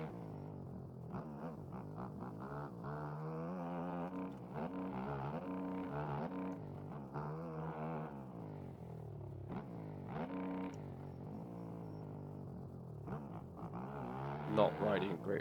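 A Kawasaki KX450F motocross bike in the MX Bikes video game on the Unadilla track, its engine repeatedly revving up and dropping through gear shifts in a continuous rising and falling drone, with someone talking over it.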